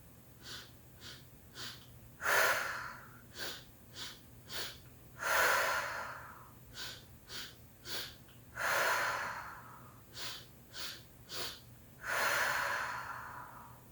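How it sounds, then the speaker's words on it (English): Quick, rhythmic breaths through the nose and mouth, short sharp puffs punctuated by longer, deeper exhales at regular intervals, close and fairly soft. "then we'll change the breath for a faster tempo"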